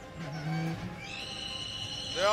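Squeaky brakes on an Aston Martin Vulcan track car, high tonal squeals that rise and bend like an animal's cry, with a sharp rising squeal at the end over low background rumble.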